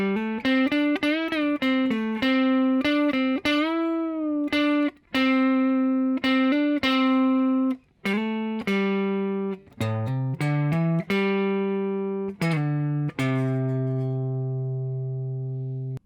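Electric guitar outro lead from a song, a sustained, slightly overdriven melodic line of bent and held single notes with brief pauses, played solo and up close with no talking.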